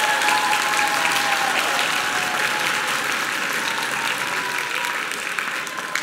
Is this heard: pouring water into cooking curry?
no